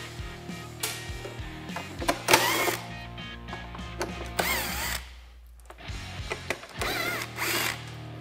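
A power drill whirs in several short bursts as it backs out screws from the clutch cover of a Polaris Ranger, close up, with brief pauses and small clinks between runs.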